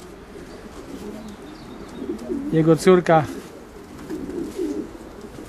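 Pigeons at a breeder's loft give a short burst of throaty cooing, close and clear, against a faint background murmur of many birds. Brief talking is heard around the calls.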